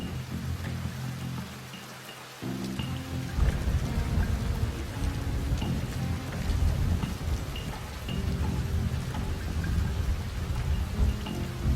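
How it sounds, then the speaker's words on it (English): Steady rain falls with rolling thunder in a feudal Japanese stealth game set during a storm, a dense hiss of downpour with low rumbles swelling and fading, no voices. "Curse this rain."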